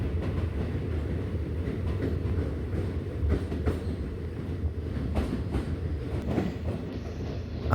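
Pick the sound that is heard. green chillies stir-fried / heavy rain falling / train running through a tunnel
train running through a tunnel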